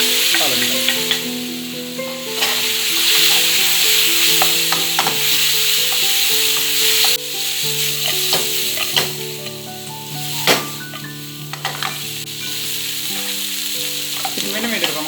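Potatoes for Sri Lankan tempered potatoes fry in hot oil in a pan, giving a loud, steady sizzle with occasional stirring clatter and a brief break midway, over continuous background music, with no talking.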